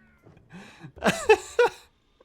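A Palico cat companion in Monster Hunter Wilds gives a few short, bright meows in close succession, with a quieter lead-in sound just before and nothing else over it.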